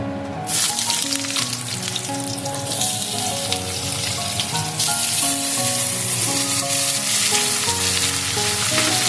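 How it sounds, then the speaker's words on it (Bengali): Potatoes frying in oil left over from fried brinjal, a loud close sizzle that bursts up as they go in and then holds steady, with no voices. "এখন এই তেলের মধ্যে আমি আলুটাও ভেজে নেব।"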